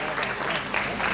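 A short burst of crowd applause, steady clapping from a group, close and fairly loud.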